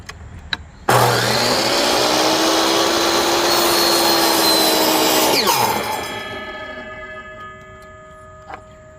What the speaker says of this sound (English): Alright, so the saw seems to be doing okay.